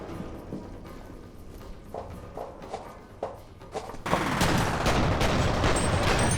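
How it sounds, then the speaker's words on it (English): Dual pistols firing in the horror shooter F.E.A.R., first as scattered single sharp shots spaced apart, then a loud, rapid flurry of gunfire and impacts that dominates the final couple of seconds. "The dual pistols kind of rule."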